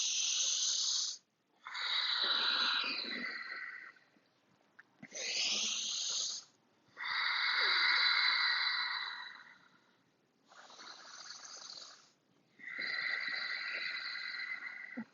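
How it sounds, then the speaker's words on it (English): Deep, slow breaths during a yoga twist, each long hiss-like inhale and exhale repeated about six times with short pauses between, close and fairly loud with no talking. "We're taking 3 deep breaths here."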